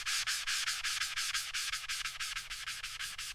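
A walnut knife handle is sanded by hand with a finer grit, producing rapid, even back-and-forth rasping strokes, steady and close, with no voices.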